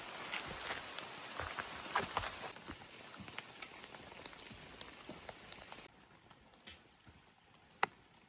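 Light rain pattering steadily on leaves and the ground along the Appalachian Trail, a close, dense patter that thins after a few seconds and leaves scattered drips and one sharp tick near the end.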